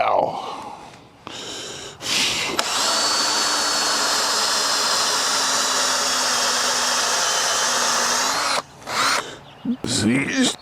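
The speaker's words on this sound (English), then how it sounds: "I gotta drill it just a little bit." A power drill drilling for rebar pins for a shed whirs loudly and steadily for about six seconds, with brief breathy sounds and short bursts before and after.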